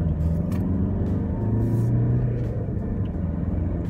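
A 110 hp Volkswagen Touran accelerating, a low, rumbling engine drone that holds steady and close for a few seconds with no speech.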